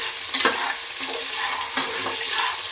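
Onion fries in a pan for tomato rice bath, a loud, close, continuous sizzle with brisk scraping from stirring, crackling bursts rising and falling without any talk.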